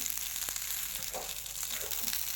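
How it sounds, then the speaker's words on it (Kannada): Okra dry-frying in a pan with little oil, giving a soft, steady hiss with a few faint stirring scrapes, quiet and continuous. "ಮೊದಲು ಹಾಗೆ ಡ್ರೈ ಮಾಡುವ ಅಂದರೆ ಫ್ರೈ ಮಾಡುವ ಪ್ರಯತ್ನವನ್ನು ಮಾಡ್ತಾ ಇದ್ದೀವಿ"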